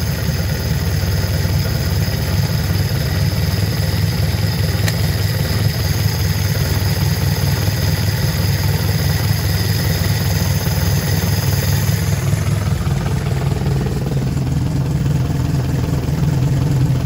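A carbureted engine being tuned with a Fueltech wideband sensor runs loud and close at a steady, even pace throughout, with a slight change in tone near the end and no speech.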